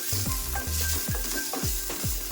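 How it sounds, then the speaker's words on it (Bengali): Chopped onion frying in a little oil, a loud close sizzle broken by regular scraping strokes of a spoon stirring about twice per second, with no talking. "অল্প তেল দিয়ে কুচো করে রাখা পেঁয়াজটা দিয়ে দিলাম। একটু নাড়তে থাকবো।"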